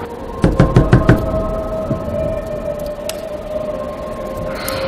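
Knuckles rap on a door in a Thai second-grade school play of Snow White: five quick, loud knocks in a burst, followed by a steady electronic hum and light stage noise.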